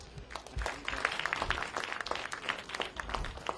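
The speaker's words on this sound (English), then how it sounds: "So let's also give a warm round of applause to Mr. Jeff Lippold." Scattered, fairly sparse clapping from a conference audience, individual hand claps popping out unevenly over about four seconds with no talk.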